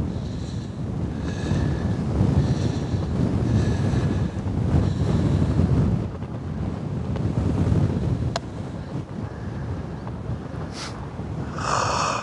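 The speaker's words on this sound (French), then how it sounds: "Le vent est vraiment contraire, tu vois." Strong wind buffets the microphone on a golf course, a loud rushing roar that surges and eases in gusts throughout, with no talk.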